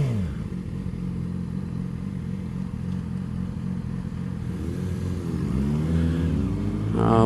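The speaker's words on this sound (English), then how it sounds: "He got that Ninja ZX14. It's a gas guzzler." A Kawasaki Ninja ZX14 motorcycle engine idles with a lumpy, pulsing rumble, then revs up in rising and falling surges near the end, loud and close, with no voices.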